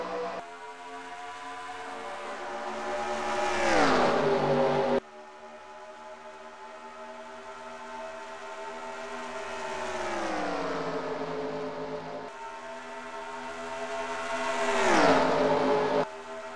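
Stock cars in a video game race at Charlotte roar off the start, engines revving up in rising sweeps that swell loud, drop away and climb again in overlapping waves.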